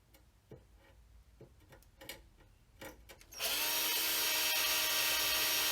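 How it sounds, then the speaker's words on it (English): A few light taps and scrapes, then a power drill whines steadily through steel on a Jeep Cherokee frame, loud and close, a continuous grinding drone. "since you are drilling metal here"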